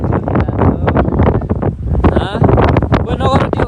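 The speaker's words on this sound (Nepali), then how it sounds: "एकछिन हावा नचले हुन्न र यो ढुम्बा लेकमा यस्तो चिसो हावा" Cold wind gusting at Dhumba Lake in Mustang, buffeting the microphone in loud rumbling bursts while a person talks over it.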